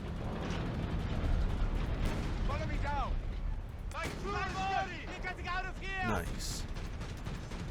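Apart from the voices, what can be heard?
Panzer III tank shooting in video game Company of Heroes 3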